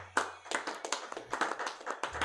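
Congregation clapping during a church service, a brisk run of overlapping hand claps that fills the clip at moderate loudness, with no talk.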